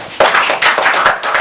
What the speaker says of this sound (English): should we clap for us?